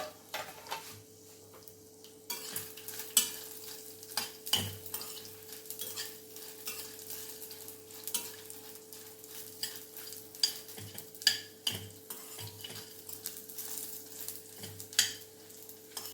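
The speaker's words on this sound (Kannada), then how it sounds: "ಎಲ್ಲವನ್ನು ಹಾಕಿ ನಾವು ಲೈಟಾಗಿ ಫ್ರೈ ಮಾಡಬೇಕು" Black peppercorns and spices lightly frying in a pan, with soft steady sizzling, occasional scraping stirs and small clinks of a utensil against the pan, close by and fairly quiet.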